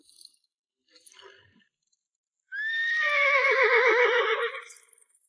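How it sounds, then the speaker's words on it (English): A horse whinnies loudly for about two seconds, a long wavering neigh, after a few faint indistinct sounds and quiet background. "That's Silas's horse."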